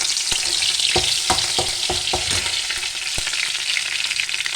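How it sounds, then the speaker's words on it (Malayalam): Curry leaves sizzle in hot oil in a pan, a dense, bright, continuous crackle close up, broken by several sharp spatters and stirring knocks early on. "ഒരു ചട്ടി അടുപ്പത്ത് വെച്ച് അതിലേക്ക് ശകല എണ്ണയും ഒഴിച്ച് കുറച്ച് കരിവേപ്പിലയും ഇട്ട്"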